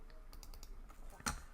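Quick, soft keystrokes tap out on a computer keyboard in an irregular run, ending with a louder single click.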